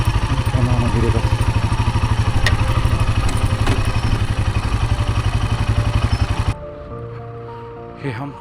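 Motorbikes on a rough mountain road after the Churdhar trek rumble loudly and close in a steady pulsing idle, then cut off abruptly, leaving quieter ambient noise and brief voices.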